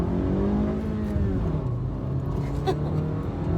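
A 2018 Honda Fit Sport engine revs hard under full throttle, a loud continuous droning whine with rising harmonics heard from inside the car, no talk.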